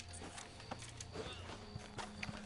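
A horse's hooves clop softly at a walking pace in a video game, faint and evenly spaced over a low steady background hum.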